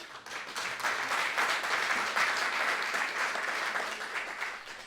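An audience claps for a band of Lithuanian musicians after a song, a dense, steady wash of applause holding at an even level for about five seconds.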